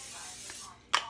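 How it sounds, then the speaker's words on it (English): Cooking spray hisses briefly into a casserole dish in a home kitchen: a steady soft spray is followed by a pause and then two short, sharper bursts, all fairly quiet and close. "So I'm gonna spray that a little bit,"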